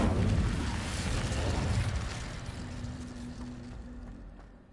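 A fiery Incendio spell blast in Hogwarts Legacy erupts as a broad roaring whoosh that swells, then slowly dies away, with a faint tone underneath.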